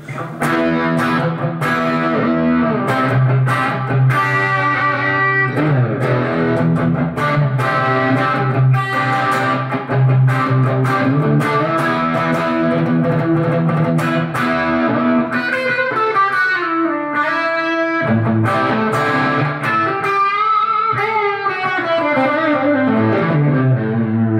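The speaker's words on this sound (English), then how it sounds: "I'll do it with a small amount first, just a crunch tone on the Marshall" Electric guitar through a Marshall amp on a light crunch setting, with Lexicon MX200 chorus and reverb, playing chords and single-note lines that bend and warble, steady and loud throughout.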